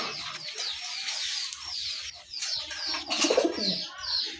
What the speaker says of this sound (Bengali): এটাও কিন্তু দেশি কবুতর, রানিং কবুতর।